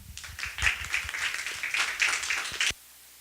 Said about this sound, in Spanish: Les pido por favor un fuerte aplauso.